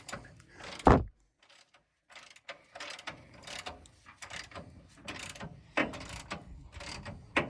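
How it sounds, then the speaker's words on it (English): A hand ratchet clicks in short irregular bursts during control arm and coil-over shock work on a 1976 Pontiac, heard close by with no talking. One sharp louder knock comes early, and the rest of the clicking is fairly faint. "technically you're turning a ratchet and holding the wrench still"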